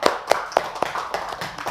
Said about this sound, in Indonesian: Ya, kasih tepuk tangannya.